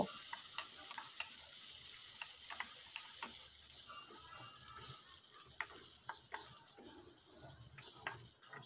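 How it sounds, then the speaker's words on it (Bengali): Onions fry softly in a spoonful of soybean oil, giving a faint, steady sizzle broken by light, irregular ticks and clicks from stirring. No one speaks. "এখন দিয়ে দেব এক চামচ পরিমাণ সয়াবিন তেল পেঁয়াজগুলো নরম হওয়া পর্যন্ত ভাজতে থাকব"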